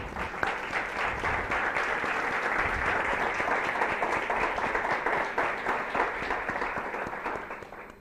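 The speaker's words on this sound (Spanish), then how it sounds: "Damos un aplauso, ¿eh?" A large church congregation at a Pentecost service applauds steadily and loudly for several seconds, dense clapping filling the room before tapering slightly at the end.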